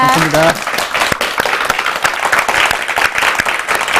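Audience applause of thanks after a church lecture by a medical doctor, a dense steady clapping of many hands filling the room, loud and continuous after a brief spoken opening.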